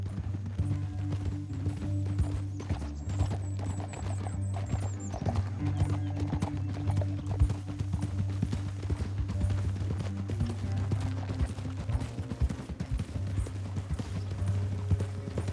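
Steady clip-clop of horse hooves in Red Dead Redemption 2 with an occasional whinny, continuous and fairly loud over a low droning background.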